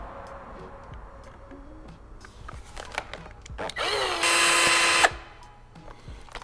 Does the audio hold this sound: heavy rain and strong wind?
no